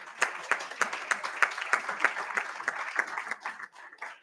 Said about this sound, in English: you can go on with the clap